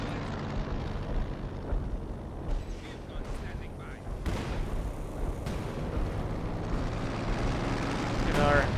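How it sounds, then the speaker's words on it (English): A howitzer artillery strike in Company of Heroes 2 produces a dense, continuous roar of booming blasts and rumble that swells toward the end, with someone talking over the barrage. "Another howitzer strike."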